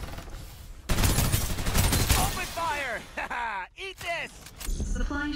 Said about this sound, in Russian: А где-то стрельба.